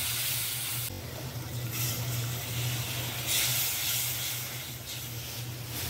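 Turnip curry sautéing in a home kitchen pan gives a steady loud sizzle and hiss that swells and eases over a low background hum, with no talking.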